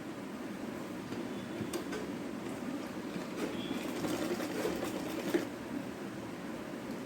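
Sewing machine stitching the side seams of a child's umbrella frock top, a steady, close mechanical rattle running without pause and with no voices.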